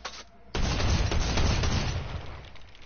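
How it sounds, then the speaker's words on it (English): Video game gunfire: after a brief quieter moment, a loud, continuous barrage of rapid shots that stays dense and close for the rest of the moment. "Ah, someone's shooting at me."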